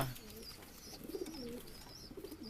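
Pigeons in a loft of high-flying breeds coo softly in low, rolling, repeated calls, faint and close, with no talking.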